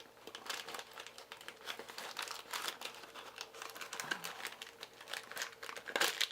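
Plastic and cardboard packaging from a Mega Bloks TMNT Metal Collector Series Leonardo toy is pulled open and crinkled close by, in bursts of crackly rustling and tearing with a few sharper snaps near the end, and no speech.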